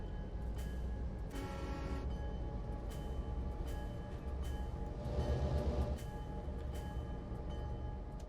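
Clinchfield freight locomotive in Train Sim World 2 pulling away in notch 4, a steady low diesel rumble with rhythmic clanks and a brief swell of hissing, moderately quiet and continuous.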